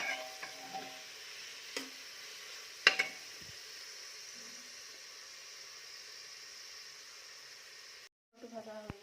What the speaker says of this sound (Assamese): ইয়াতে মিক্স কৰি দিলেই হৈ যায়।